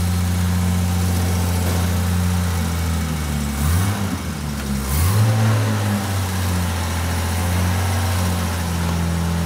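A 1963 Jaguar E-Type with three carburettors runs on e-fuels, its engine holding a steady, loud idle with a short rev midway before settling back to an even hum.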